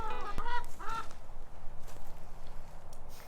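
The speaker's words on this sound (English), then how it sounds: "every time we try to do a video, chicken gets involved." Chickens cluck in a barnyard beside a barn, giving a few short clucks near the start and then going quiet under faint outdoor ambience, with no talking.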